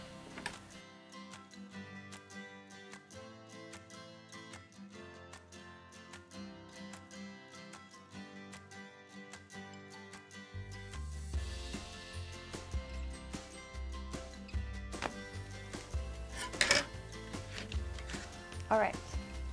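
Scissors or a blade working through cardboard to cut a nine-inch circle for a plastic spoon mirror craft, making quiet repeated snips and crunching cuts that grow more frequent in the second half. A voice talks over the cutting.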